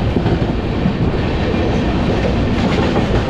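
The Himsagar Express rolls slowly into Agra station, a loud steady rumble of wheels on track with faint rhythmic clacking throughout, no voices.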